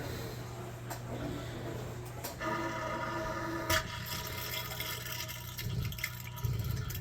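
A dishwasher with a failing pump drains weakly, a faint, steady trickle of water over a low motor hum with a few clicks and thumps.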